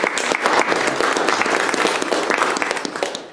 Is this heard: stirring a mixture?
no